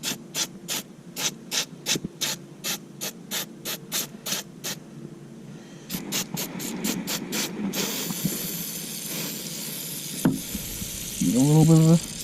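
Fluid Film corrosion-protection aerosol is sprayed onto battery terminals: a rapid rattling of the can being shaken gives way to a steady close hiss of spray lasting a few seconds, followed by a person talking.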